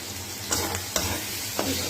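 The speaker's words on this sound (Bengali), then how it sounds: "ভালো করে মশলাটাকে আগে একটু কষিয়ে নেব" Spice paste with ginger frying in a pan for a lota fish curry, a steady close sizzle broken by a few quick stirring scrapes, no voices.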